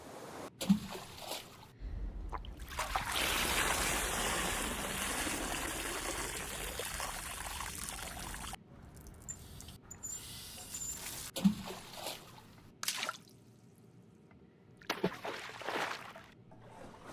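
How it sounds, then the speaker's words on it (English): Toast dropped into water as a splash effect: a sustained watery trickle and splash lasting several seconds, followed by a few short drips and small splashes with quiet gaps between. "Dropping toast in the water."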